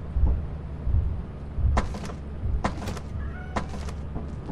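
A few short cat meows in Lethal Company ring out over a low rumbling background, spaced irregularly with quiet gaps between them.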